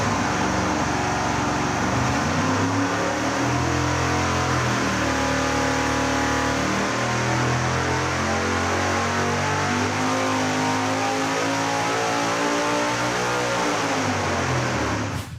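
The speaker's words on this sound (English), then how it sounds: "This is going to be the nitrous pull." A supercharged big-block Chevy V8 on a nitrous-fed dyno pull roars loud and continuous, its pitch sweeping steadily upward as the revs climb, then cutting off at the end.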